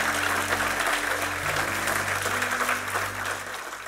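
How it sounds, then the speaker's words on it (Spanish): In a church, a congregation claps in a full, continuous burst of applause that holds at a fairly even level throughout. "Dale un aplauso al Señor, por favor."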